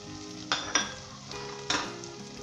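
Spices dropped into hot oil for a peas and carrot curry sizzle in a pan, with a few sharp bursts of crackle and stirring over a steady low fry.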